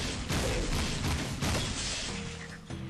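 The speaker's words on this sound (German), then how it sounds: "die letzten Schüsse kamen, glaube ich, von hier oben" Rapid bursts of gunfire from the Jak II video game crackle and thump densely through most of the stretch, loud and close, then thin out toward the end.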